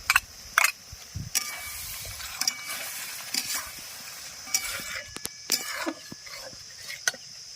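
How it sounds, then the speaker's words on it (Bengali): Beaten Amul yogurt going into an aubergine curry in the pan gives a quiet, steady sizzle, broken by scattered light clinks and scrapes of a utensil. "এই দেখুন এখানে আমি এক কাপ পরিমাণ আমুলের টক দই আগে থেকে ফেটিয়ে নিয়েছি এবার দিয়ে দেবো"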